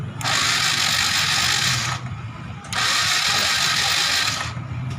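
A Suzuki Shogun 125 FI motorcycle with no ignition spark cranks on its electric starter in two loud, steady whirring bursts of under two seconds each, separated by a short pause.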